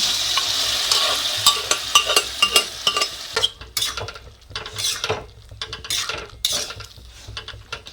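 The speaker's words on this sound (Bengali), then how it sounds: "খুব সুন্দরভাবে ঘুগনিটা ঢেলে দিচ্ছে মা" Spiced ghugni, a yellow pea curry cooked with garlic and cumin paste, sizzles in a hot pan as it is poured in and stirred, with loud clinks and scrapes of a utensil against the metal. Nobody speaks.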